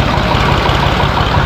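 A tractor engine runs loud and close with a continuous low chugging idle and rhythmic knocking pulses throughout, during a tractor pulling contest.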